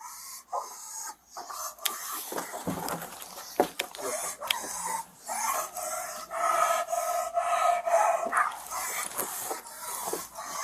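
Police dog barking and panting inside a hotel during an arrest, with officers shouting commands over it; the barks come in uneven bursts amid loud, close voices.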